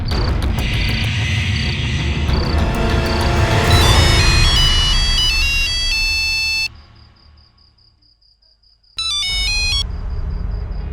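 A telephone rings with a repeating electronic tone over dramatic music, falls to near silence for a couple of seconds, then resumes with bright pulsing beeps.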